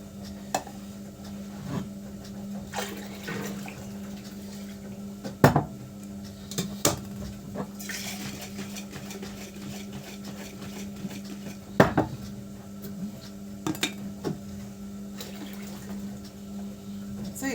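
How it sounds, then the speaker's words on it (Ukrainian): A pile of dishes being washed in a sink under running water, with a steady low hum and the stream running throughout, punctuated by sharp clinks and clatters of plates, cutlery and pots every few seconds, close by and moderately quiet. "Купа посуду перемивати."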